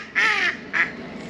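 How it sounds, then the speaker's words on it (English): A duck on a misty canal lets out two loud, close quacks, a longer one followed by a shorter one, with quiet outdoor air between them. "has to be the loudest duck I've ever seen"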